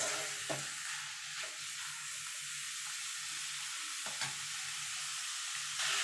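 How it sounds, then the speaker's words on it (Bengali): Chicken pieces are stirred with spices in a hot pan for a chicken stew, giving a continuous sizzle with periodic scraping strokes of a spatula, close and clear, with no voices. "এবার এটাকেও মিনিট খানিক একটুখানি নাড়াচাড়া করে নেবো মশলার সঙ্গে"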